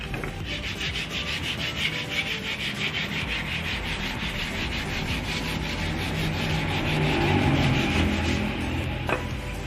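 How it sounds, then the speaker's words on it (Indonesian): Wood being sanded by hand with sandpaper, a dense rhythmic rasping of quick back-and-forth strokes, loud and close throughout with no voices. "mengamplas kayu ya. Jangan kecil. Hah? Versi manual ngono lho."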